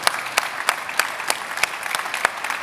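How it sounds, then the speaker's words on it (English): A conference audience applauds the organizers in a large congress center, with steady, fairly even claps sounding fairly close for the whole stretch and no talking over them. "I do want a big round of applause, please, for all of the organizers who have organized this conference over the last 3 days."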